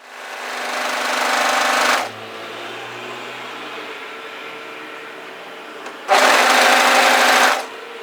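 A sewing machine stitches a hoodie panel in two bursts, a two-second run, then a pause with faint handling, then a shorter second run, both close and fairly loud.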